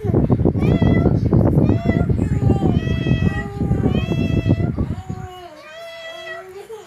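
A kitten meows repeatedly in short, high, rising cries, close and loud, while a person talks over and between the calls before it goes quiet near the end.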